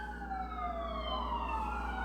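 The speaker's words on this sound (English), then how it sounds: "Oh, that's a fire truck." A fire truck siren wails steadily through a downtown street, its rising and falling tone holding over a continuous low rumble of traffic, fairly distant and with no talk.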